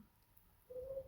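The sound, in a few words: dove cooing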